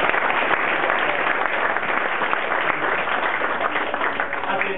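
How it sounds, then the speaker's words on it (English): Wedding guests at a reception applaud together in a steady, continuous round of clapping, heard fairly close with a constant crowd texture and no single standout claps. "I think we can give her a round of applause."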